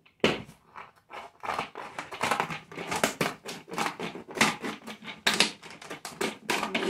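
Scissors cut through a plastic PET bottle in quick, crackling snips and crunches, close and irregular, with no talking.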